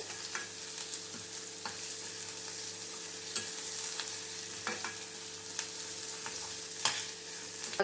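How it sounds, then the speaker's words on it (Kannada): Onions fry in a pan for vermicelli upma with a steady, moderate sizzle and light periodic clicks of a spatula stirring through them. "ಸ್ವಲ್ಪ ಈರುಳ್ಳಿ light colour brown light colour ಬರಬೇಕು. ಸ್ವಲ್ಪ ಫ್ರೈ ಆಗಬೇಕದು."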